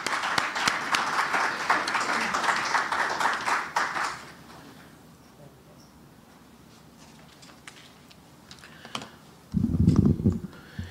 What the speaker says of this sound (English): I would like you all to give Professor Taylor a round of applause to welcome him.